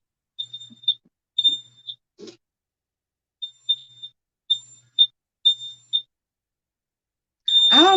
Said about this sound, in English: So now y'all can turn the fan on so the alarm can shut up.